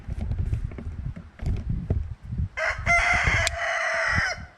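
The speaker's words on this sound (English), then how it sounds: "here comes the chickens" Chickens clucking in a yard, with busy low clucks and scratching, then a loud rooster crow rising over the flock near the end.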